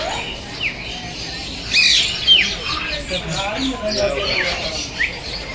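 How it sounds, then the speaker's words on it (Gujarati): A Goffin's cockatoo at Kankaria zoo in Ahmedabad gives a string of short, bright squawks and chirps at moderate distance, scattered irregularly over a soft background murmur. "ગોફીન કાકા કૌવા, ગોફીન કાકા કૌવા મતલબ."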